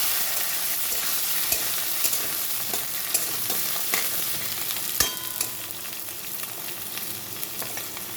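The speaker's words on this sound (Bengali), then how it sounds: "আলু আর বেগুনটা একটু ভালো করে ভেজে নেব" Potato and eggplant pieces fry in oil with black cumin seeds, giving a busy close sizzle punctuated by repeated sharp clicks and scrapes of a spatula stirring the pan, with no voices.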